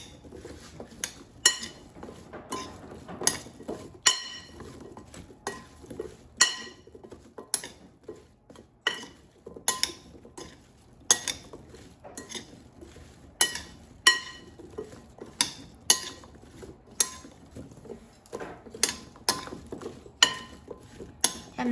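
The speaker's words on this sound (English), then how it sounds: "now I'm going to toss them to coat evenly with oil and seasonings" Roasted parsnips tossed with oil and seasonings in a bowl, producing many clinking, tapping knocks at an irregular pace, fairly close, with quieter scraping between the hits.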